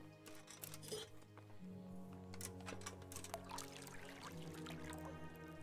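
Water pours and trickles into a cauldron in Kingdom Come: Deliverance, with a few light clinks and a steady low hum from the game playing underneath.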